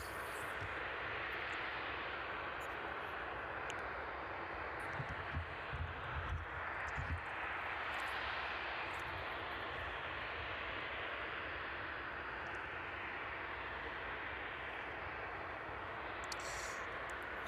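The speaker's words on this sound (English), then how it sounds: "catch the arrival of that DHL 767" A DHL Boeing 767 cargo jet arrives at East Midlands Airport in the evening, a sustained broad engine roar that holds steady and loud throughout, distant but filling the scene, with no voices.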